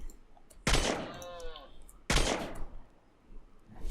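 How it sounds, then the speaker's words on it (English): The M3 Predator pistol from the Rimeffect mod fires in RimWorld: two sharp, loud shots about a second and a half apart. Each shot has a ringing, metallic tail, and no one talks. "It's the M3 Predator."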